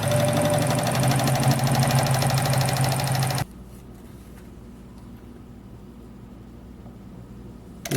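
A Morse Fotomatic III sewing machine runs a straight stitch at 6 stitches per inch through awning-type fabric, a loud rapid whirring chatter for about three seconds that stops abruptly, leaving quiet room tone.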